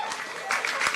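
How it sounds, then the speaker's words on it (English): A political speaking event crowd erupting in dense, continuous applause with some cheering, swelling louder in the second half of the short burst. "When he said this, the crowd goes absolutely bonkers"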